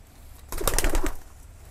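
A pigeon in a cage gives one short, close throaty coo that lasts under a second against a faint background.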